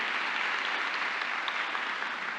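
Church congregation applauding during a sermon, a dense, even wash of clapping held steadily at moderate volume.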